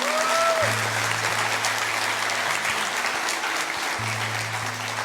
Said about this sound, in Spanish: Vamos a dar un aplauso, hermanos.